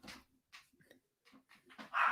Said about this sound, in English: And there goes your dog.